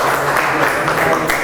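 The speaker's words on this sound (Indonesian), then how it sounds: "Tepuk tangan lagi buat kita semua." Audience applause at an Indonesian teaching-certification session, a steady broadband wash of clapping sustained throughout, fairly loud and close, with a faint voice mixed underneath.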